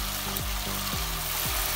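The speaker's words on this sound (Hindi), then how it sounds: "हाई फ्लेम पे 1 से 2 मिनट की भुनाई कर लेंगे अच्छी तरह से" Masala frying on a high flame for a fish curry, with a little water added. It gives a steady, close sizzle and crackle throughout, and a few low scraping strokes of stirring repeat every half second or so.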